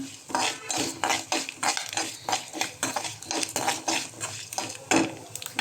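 Moringa and curry leaves stir-fried in a pan, with a steady run of close metal spatula scrapes and clinks over a soft sizzle and no voices.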